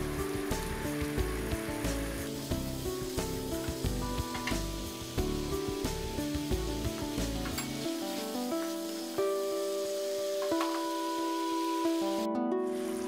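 Fried onions (beresta) are tipped into eggs cooking in a pan, giving a continuous close sizzle with light stirring scrapes, carried beneath steady background music.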